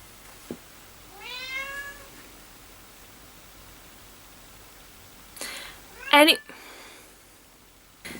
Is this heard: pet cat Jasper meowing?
yes